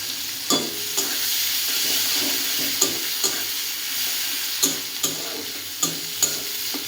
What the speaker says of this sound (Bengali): জিরে ফোড়ন দিয়েছি, একটু পেঁয়াজ দিলাম